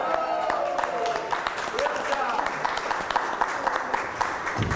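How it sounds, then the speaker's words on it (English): Audience applause at an Assyrian New Year flag raising ceremony in Yonkers, a continuous patter of clapping under a voice speaking over a microphone throughout. "let's have a round of applause"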